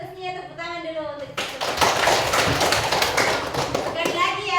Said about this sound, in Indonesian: Tepuk tangan, konsentrasinya tepuk tangan dulu untuk